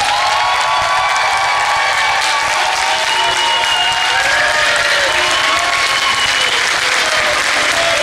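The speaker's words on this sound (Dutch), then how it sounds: "geef hem nog een geweldig applaus." A large crowd at a carnival prince event gives loud, sustained applause and cheering for former carnival prince Sjoerd. The clapping stays dense and steady throughout, with shouts and whistles rising over it.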